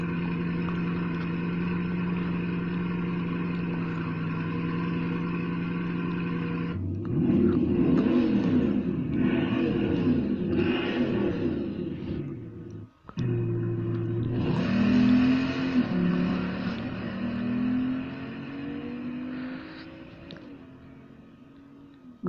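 A Bugatti Chiron engine idles, then revs hard several times with rising and falling roars, a brief cut, then more revving and a gradual settle.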